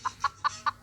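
A chicken clucks four times in quick, evenly spaced bursts, short and fairly close, with no talking over it.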